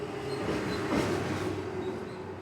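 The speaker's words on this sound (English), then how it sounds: "That's how loud it is when you live right next to a road." Heavy traffic rumbles along a road right beside a house, a steady low roar with a brief swelling whoosh as a vehicle passes, heard alone without speech.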